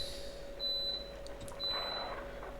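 A washing machine beeping in the background, two thin high electronic tones a second apart, each held about half a second, faint against a low steady hum.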